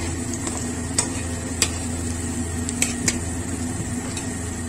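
Onion pakoras (piyaju) fry in hot oil, giving a steady, close sizzle and bubble with a few sharp pops and stirring clicks, with no voices.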